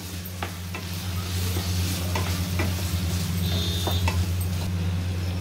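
Finely chopped tomatoes for paneer bhurji sizzle steadily in a pan, with a spoon scraping and clicking through them in irregular strokes over a constant low hum, close and alone with no voices.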